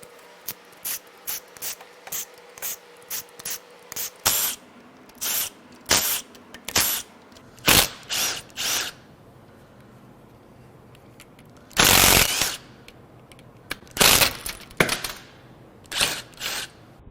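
Ratchet working loose the cam cap bolts on a BMW B58 engine from a 340i during a teardown, heard as short bursts of clicking and rasping with pauses between them, loud and close with no talk.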